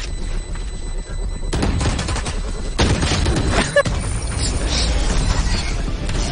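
Rapid bursts of automatic gunfire and mechanical weapon clatter fill a round of the tactical shooter Valorant, loud and dense, with overlapping game effects and brief pauses between volleys.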